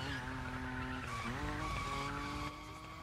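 A BMW M5 drifting in The Crew Motorfest, tyres squealing in a long sustained skid over a steady, revving engine, loud and close with no talk.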